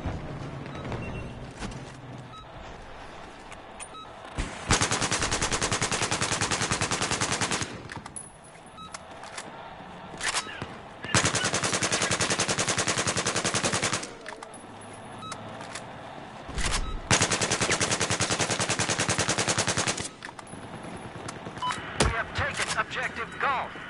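Automatic gunfire in the video game Battlefield 4, rattling in several long, loud sustained volleys separated by shorter pauses, with voices talking and shouting throughout.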